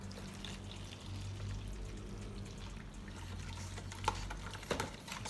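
Hot water is poured into a bag in a soft, continuous trickling stream, faint and close, with a couple of small knocks near the end.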